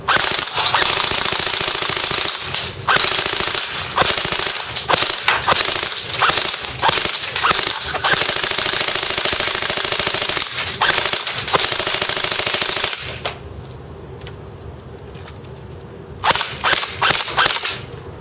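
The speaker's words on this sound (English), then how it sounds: "All right, so now it's time to shoot a can. First, semi-automatic. All right, let's go full auto." An Ares H&K G36c airsoft rifle fires full auto at a can, long rapid rattling bursts close by with short gaps, then a quieter pause before a final burst.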